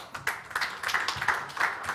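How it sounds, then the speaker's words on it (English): A small audience at a health tech pitch competition gives scattered, fairly quiet applause after a pitch. Uneven individual claps patter for a couple of seconds. "Round of applause."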